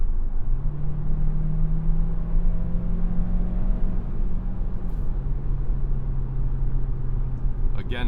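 A 2026 Hyundai Santa Fe Hybrid Calligraphy AWD accelerates at full throttle, heard from inside the cabin. The engine drones steadily and its pitch climbs slowly, with a rumbling road noise underneath. A driver talks over it.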